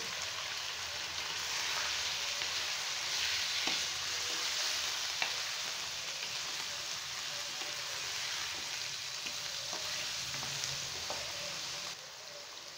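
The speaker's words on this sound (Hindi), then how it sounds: "गोश्त डाल के अब मैं 5 मिनट के लिए इसको भूनूंगी।" Mutton fries in a karahi with a steady, close crackling sizzle like light rain, broken by occasional stirring scrapes and pops, and no talk.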